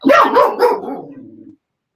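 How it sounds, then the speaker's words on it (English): A dog barks loudly nearby in a rapid burst of several yaps that trail off into a brief whine, then silence. "in the middle of the interview, he barks."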